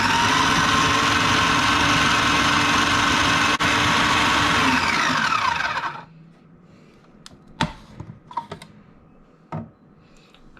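A food processor fitted with a plastic pastry blade runs on low speed to rub in pastry for Cornish pasties, a steady close whir that cuts off around midway, followed by quiet handling sounds.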